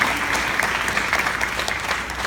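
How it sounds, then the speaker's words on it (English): An audience applauds at an evening panel event, with dense, steady clapping that continues throughout without breaks. "So I really want a round of applause for you all"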